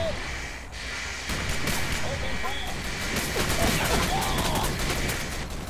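Mounted guns in the video game Rogue Trooper fire in rapid bursts of crackling gunfire over a dense battle din, steady and fairly loud throughout, with a voice talking faintly underneath.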